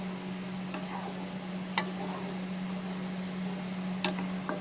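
Shahi paneer in a pan gets fresh cream stirred in, a soft low sizzle with a steady hum beneath and a few sharp spoon clicks against the pan.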